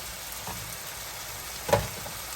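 Cooked rice frying in a pan with vegetables and shrimp, a constant soft sizzle punctuated by one brief louder clatter of stirring near the end.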